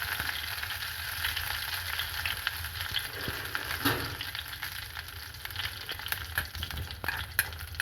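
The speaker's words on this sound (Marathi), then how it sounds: "इथे मी तेल गरम करायला ठेवलंय, त्यात टाकलंय जिरं, त्यात टाकलाय थोडासा कढीपत्ता।" Cumin seeds and finely chopped curry leaves frying in hot oil for aloo masala idli, a steady close crackling sizzle with occasional stirring scrapes and pops, no voices.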